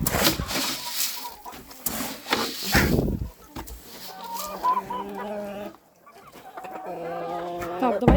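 Chickens cluck and squawk in a farmyard among other poultry, several birds calling in uneven bursts close by, with scuffling and someone talking at times.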